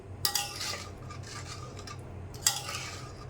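A metal lid goes onto a pot of tengra fish curry with potatoes, making two distinct clanks a couple of seconds apart over a faint background hiss.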